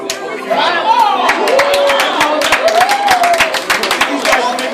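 A birthday party audience at a magic show claps in brisk, uneven applause with scattered cheers and chatter, while voices talk over the clapping throughout.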